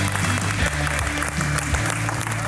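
Customers applaud the unveiling of a restored 1971 Cuda, steady crowd clapping and cheering layered with loud background music, continuous throughout.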